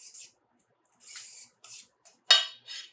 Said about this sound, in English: We're going to give this a quick mix right here.